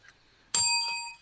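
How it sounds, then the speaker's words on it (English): A single bright ding of a small bell rings out clearly and close, then fades away over about half a second, with near silence before it. "Did you ding the bell for your Ryan points?"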